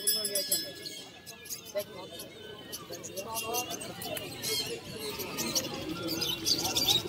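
Fancy flying pigeons at a village market stall, with faint coos and chirps under the steady chatter of the surrounding crowd and someone talking.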